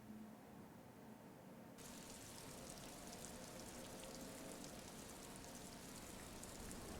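Steady rain falls in the video game Disco Elysium, a continuous hiss of drops on surfaces that grows denser and brighter after the first couple of seconds, with no talking.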